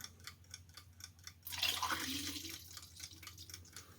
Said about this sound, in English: Then I pour in my stop bath.